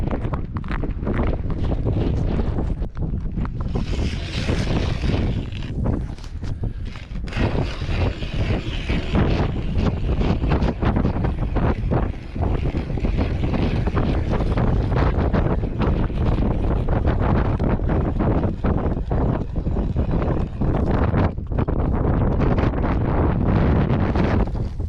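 Gusty wind buffets the microphone at a mountain fishing spot in Yellowstone National Park, a loud, rough roar that surges and eases throughout with no voices over it.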